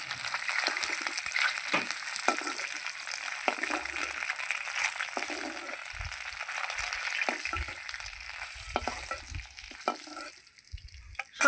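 Duck eggs seasoned with salt and turmeric sizzle and spit steadily in hot oil in a kadai, a continuous bright crackle with occasional stirring clinks, close and fairly loud with no talking.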